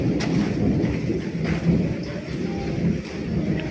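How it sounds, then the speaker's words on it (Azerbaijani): Low thunder rumbles steadily over falling rain, a broad continuous wash with scattered drops tapping on surfaces nearby, heard alone without speech. "Yağış yağıb. Göy gurulduyur."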